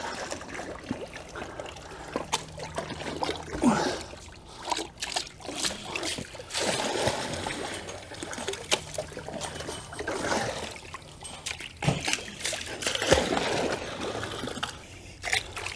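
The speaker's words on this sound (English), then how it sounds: "you want to get your pool brush and stir it up a little bit" A pool brush sweeps and stirs salt through swimming pool water, giving repeated soft splashing and trickling swishes in an uneven rhythm, close and moderately loud.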